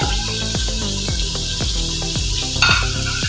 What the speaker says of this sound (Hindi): आपने मजीद गोश्त को भूनना है इस मसाले के साथ